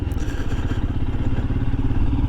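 A Royal Enfield Himalayan motorcycle engine rumbles steadily close by, with clattering and thumping as it rides over a rough, uneven, muddy dirt track.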